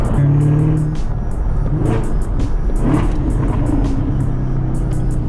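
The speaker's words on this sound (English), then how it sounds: "it's still obviously really, really fast, but you can see that I'm losing boost in between shifts" A fast turbocharged McLaren accelerates hard through its gears, the engine note climbing and then dropping briefly at each shift, loud and close from inside the car.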